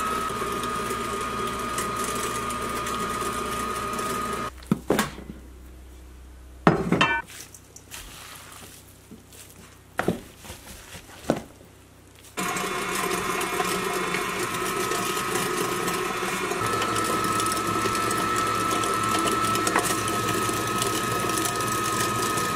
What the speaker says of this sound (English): Second run through the grinder, it always takes us a little longer when we're running it through that coarse plate.